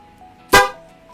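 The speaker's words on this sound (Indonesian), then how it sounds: "ini suara klakson mobil yang premium banget sih menurut gua." A single loud, short honk from a Kajito premium double snail car horn, sharp at onset and fading quickly against a quiet background.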